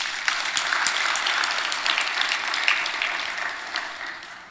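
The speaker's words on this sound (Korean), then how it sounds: "박수 한번 쳐드려요." A church congregation claps after an early-morning choir hymn, dense sustained applause filling the room for several seconds and tapering off at the end, with no talk over it.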